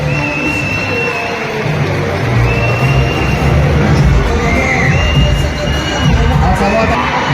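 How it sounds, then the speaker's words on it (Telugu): A crowd at a police event bursts into loud, sustained applause mixed with cheering, a dense unbroken roar that carries on for several seconds. "IG sports and welfare Ramesh సార్కు ఒకసారి గట్టిగా పోలీస్ స్టేషన్ చప్పట్లు కొట్టాలి."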